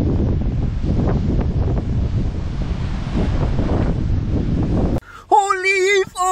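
Strong wind roars and buffets the microphone for several seconds during cold, wet, rainy weather while car camping, then cuts off abruptly and a voice briefly cries out.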